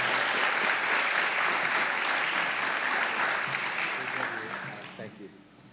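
An audience applauds at a podium event, a dense, steady crowd clapping that holds loudly for about four seconds before fading out as a speaker begins.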